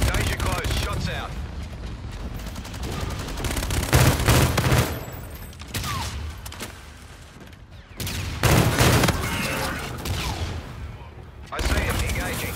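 Rapid bursts of SMG gunfire from the Raijin EMX Piercer in the video game Infinite Warfare, several loud close volleys separated by short lulls, mixed with game sounds and faint voice chatter.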